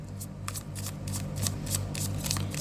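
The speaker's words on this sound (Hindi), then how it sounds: "last shuffle" Tarot cards are shuffled by hand in rapid, rhythmic riffles, each a crisp burst of flicking close to the ear, repeating steadily with no talking.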